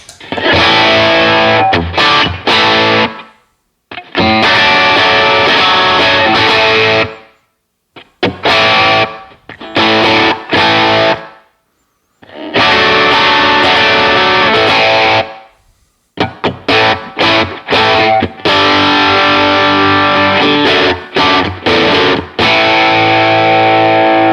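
An electric guitar, a Stratocaster through a Fuchs Plush Cerberus overdrive pedal in Marshall mode, plays loud distorted chords and riffs in bursts, with short silent pauses between phrases.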